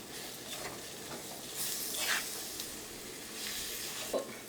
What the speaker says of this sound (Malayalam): ഈ തക്കാളി നമുക്ക് നന്നായിട്ടൊന്ന് മൊരിച്ചെടുക്കാം